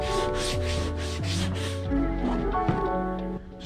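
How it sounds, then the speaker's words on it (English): A plywood ring is sanded by hand, giving a close, steady rubbing scrape in a series of back-and-forth strokes, fairly loud throughout. "Just give it a little sand down so I don't cut myself"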